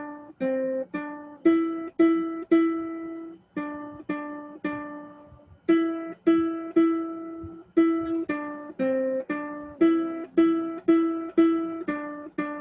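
Ukulele picks out Mary Had a Little Lamb note by note, a simple bright melody in steady rhythm with short pauses between phrases, close and alone.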